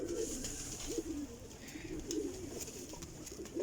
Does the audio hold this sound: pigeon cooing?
yes